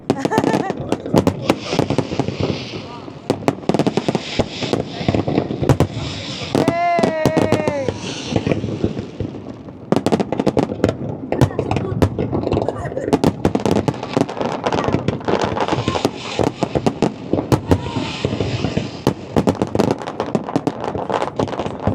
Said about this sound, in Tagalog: So nice. Fireworks.